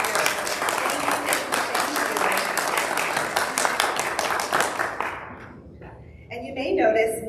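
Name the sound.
audience applause for volunteers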